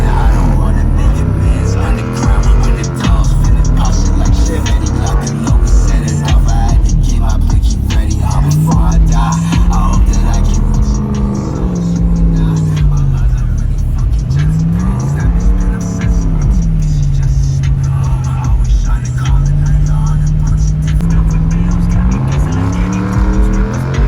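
A Chevrolet Tahoe's engine and exhaust rev hard in the snow, rising and falling in loud, throaty surges with drawn-out pulls and possible tire spin, close and steady throughout.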